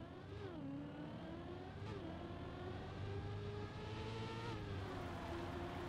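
A racing car's engine whines steadily in the game Trackmania, with its pitch dropping abruptly several times as the gear falls, under a constant, fairly quiet drone.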